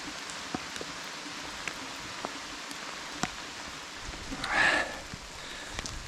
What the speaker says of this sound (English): Little bit of rain.